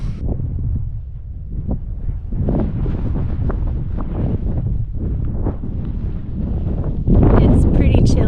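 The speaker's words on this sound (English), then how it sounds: "It's pretty chilly and windy at the top." Strong wind buffets the microphone at a chilly, exposed mountaintop in Denali National Park, Alaska, a steady loud rumbling roar with gusts, swelling harder near the end; no one speaks.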